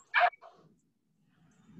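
A voice imitates a dog's bow-wow bark, one short loud yelp followed by a softer trailing sound, then near silence during an online preschool class.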